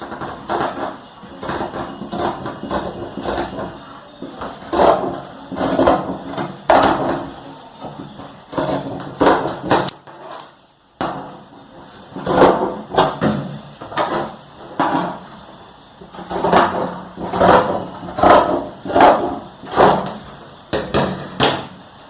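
Scissors cut blouse fabric along the back armhole, making repeated rhythmic snips and rustles in close bursts with a short pause in the middle.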